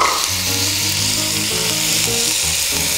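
Onions, celery and carrots sizzle loudly in a hot pan, a dense, steady frying hiss that fills the whole stretch without pause.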